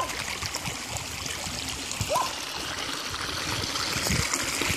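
A thin stream of water trickles from a tap, a soft continuous dribble heard close up with faint background noise.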